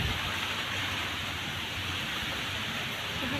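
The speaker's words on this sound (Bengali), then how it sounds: "বৃষ্টি পড়ছে, বাইরে তো যেতে পারছি না" Steady rain falling outdoors on a Buddha Purnima day, heard from indoors as a dense, even hiss that holds unbroken throughout with no other sound over it.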